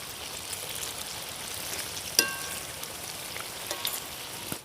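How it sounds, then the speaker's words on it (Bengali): Palm fruit fritters (taler bora) frying in hot oil give a faint, steady crackling sizzle, with one brief sharp pop partway through. "এই দেখুন এবার লাল লাল করে ভেজে নেব।"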